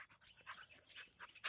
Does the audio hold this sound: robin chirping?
no